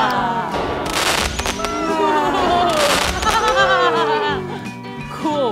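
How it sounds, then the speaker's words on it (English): Fireworks bursting and crackling in a lively outdoor scene, repeated loud pops and sizzling bursts under overlapping voices and chatter, with whistling tones rising and falling throughout. "Spoiler alert, they're actually fireworks."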